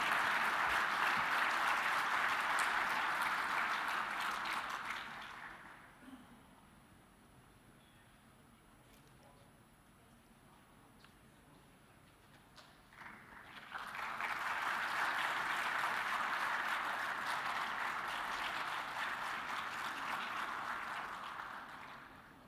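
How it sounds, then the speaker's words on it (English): Audience round of applause at a UN Public Service Forum e-government recognition ceremony, a steady sustained roar of clapping that fades into a quieter lull around the middle before a second strong burst of applause swells back up and carries on. "Please join us for a round of applause for Albania."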